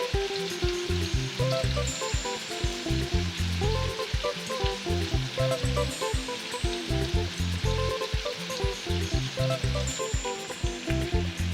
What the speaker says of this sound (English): So once the side of the beef is cooked, you want to flip it over, turn it over so the other sides can cook evenly as well.